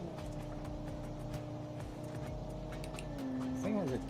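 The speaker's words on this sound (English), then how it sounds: "You can hear the revs jumping as one of the wheels comes off the ground." A vehicle's engine in a driving game on an enduro track, humming steadily, then the revs suddenly jump and waver in pitch as a wheel lifts off the ground, with a voice talking over it.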